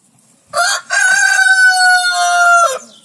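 A rooster crows a single loud, close cock-a-doodle-doo, starting with a short note and then stretching into a long, bright, sustained call that cuts off cleanly.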